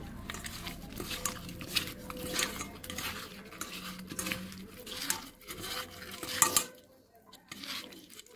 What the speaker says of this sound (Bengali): দিয়ে দিচ্ছি হলুদ পাউডার, দিয়ে দিচ্ছি স্বাদ মতো নুন। এবার সুন্দর করে মেখে নেব।